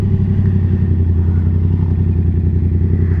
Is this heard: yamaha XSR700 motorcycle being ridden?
yes